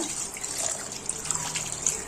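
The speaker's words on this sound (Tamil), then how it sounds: "தண்ணி ஊற்றி ஆட் பண்ணிக்கோங்க" Water pours steadily into a pot of mutton bones for soup, with a continuous splashing hiss, close by and without any talking.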